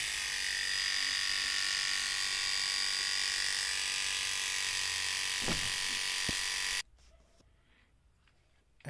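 The pop-up trimmer of a Philips S5582/20 electric shaver runs with a steady high-pitched buzz, close and loud, with a couple of clicks near the end before it switches off, leaving quiet.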